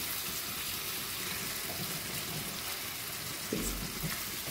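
Shrimp frying in olive oil in a pan, with a steady, even sizzle and hiss throughout and a brief louder clatter near the end.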